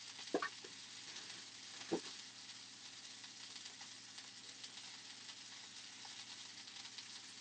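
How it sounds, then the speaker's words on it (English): A cracked egg cooks in an egg toaster, giving a faint, steady sizzling hiss throughout, with a couple of soft clicks near the start. "pop this in my egg toaster. I'm going to get the egg cooking"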